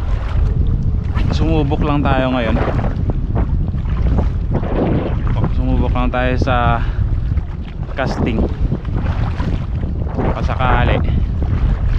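Strong northeast monsoon wind buffets the microphone on a seashore in a constant, loud rushing roar. Someone talks over it throughout.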